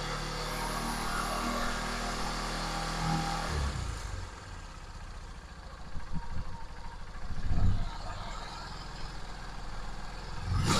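A TMX Supremo motorcycle engine with a faulty airscrew adjustment revs loudly, then drops and sputters, then surges briefly toward high RPM again, heard close with no talk.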